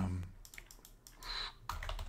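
Typing on a computer keyboard, a short run of soft clicking keystrokes close by and fairly quiet.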